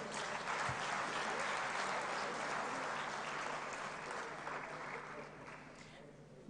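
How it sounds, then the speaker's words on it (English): An audience at a climate finance conference plenary applauds in steady, dense clapping that slowly fades toward the end, with faint talk mixed in. "Ladies and gentlemen, if we may give them another round of applause."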